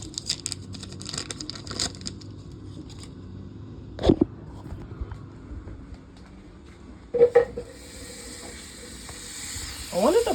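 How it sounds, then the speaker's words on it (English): Butter sizzles in an overheated skillet, a thin continuous hiss broken by a few sharp bursts of louder crackling and spatter. "I wanted to brown my butter off, but I allowed the skillet to be a little too hot"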